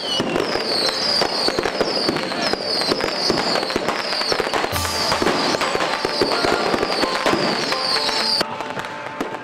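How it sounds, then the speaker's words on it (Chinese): Firecrackers and fireworks crackle and pop in dense, rapid bursts, loud and continuous, during a Mazu pilgrimage procession in Dajia, Taichung, Taiwan. "当晚镇民更会以爆竹烟火来香迎"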